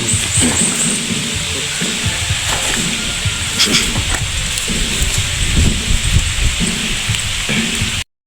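Steady rain pours down on a banana farm with a dense hiss and patter, heavy and continuous, with scattered louder drips close by.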